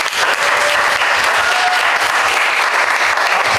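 A church congregation at a united worship service breaks into warm, thankful applause, dense steady clapping filling the room close and loud for a few seconds, no voices over it.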